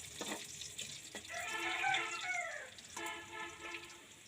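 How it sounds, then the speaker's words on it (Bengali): Onions frying in oil in a pan over a clay stove, giving a steady sizzle with tonal scraping and stirring sounds layered on top, close and moderately loud throughout, with no talking. "তো এখন পেঁয়াজ দিয়ে পেঁয়াজটাকে একটু ভেজে নেবে, পেঁয়াজটা নরম না হওয়া পর্যন্ত"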